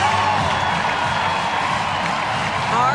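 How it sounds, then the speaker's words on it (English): A hockey arena crowd at a PWHL game between Montreal and Ottawa cheers and claps in a steady, loud, enveloping roar that holds without a break throughout. "We'll just let the crowd do the talking, Becky."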